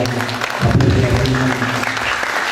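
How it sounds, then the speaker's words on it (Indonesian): A seated audience at a cultural gathering gives appreciative applause in honour of a local association chairman. The brief clapping swells for about two seconds and sits under a speaking voice. "Apresiasi tepuk tangan untuk beliau juga"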